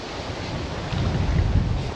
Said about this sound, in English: She's a strong wind. I hope it doesn't sound too bad on the camera anyway.